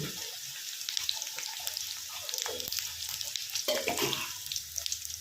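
Green okra fries in a hot kadai with a bright, crackling sizzle and busy stirring scrapes, heard close up and fairly loud across the short stretch.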